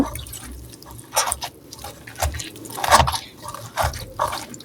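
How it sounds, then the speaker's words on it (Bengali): Water splashes and drips in irregular bursts while red amaranth leaves are washed in a kitchen, close and moderately loud, with no talking. "দেখেন কত পানি ব্যয় হচ্ছে"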